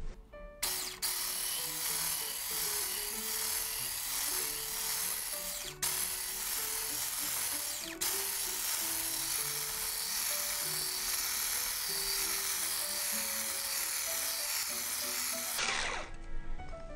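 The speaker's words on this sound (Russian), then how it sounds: "Сначала взбиваем на самой маленькой скорости" Electric mixer whipping marshmallow mass with syrup at low speed, a continuous high buzzing whir starting abruptly and running steadily for about fifteen seconds before cutting off, with occasional faint clinks of the beaters.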